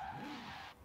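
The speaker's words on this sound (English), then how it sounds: "I'm drifting my van whilst making the rounds" A van drifting in Forza Horizon 4 gives a loud, sustained tire squeal with a steady engine drone beneath it. It cuts off abruptly near the end.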